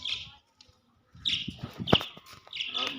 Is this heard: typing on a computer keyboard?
no